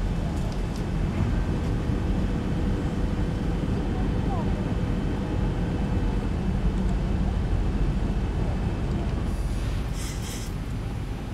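A Boeing 777 landing at Fort Myers, a loud continuous rumbling roar from the cabin that stays steady throughout, with faint higher rattles near the end.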